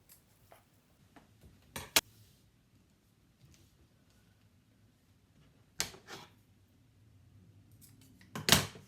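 Fabric pieces for a DIY pouf floor cushion being cut with scissors, a few sharp snips and rustles spaced apart in a quiet room, with a louder cluster of cuts near the end.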